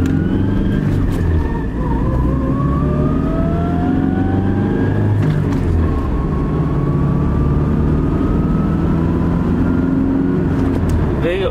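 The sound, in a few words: truck transmission noise in low gears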